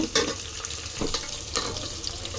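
Onion and green chilies fry in hot oil in a pan, giving a steady close sizzle with a few stirring scrapes and crackles throughout.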